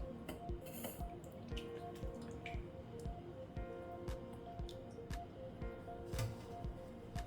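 Water sprinkled by hand over freshly cooked rice-flour dough for modak gives faint, scattered drips and small wet taps, close but very quiet, with no talking.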